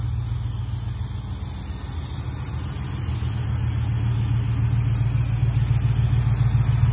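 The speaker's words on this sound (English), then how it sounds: "as it warms up, it'll idle down" A 1986 Buick Regal Limited G-body with a big-block engine and Holley EFI idles steadily while warming up, a close, continuous low rumble that swells slightly louder partway through.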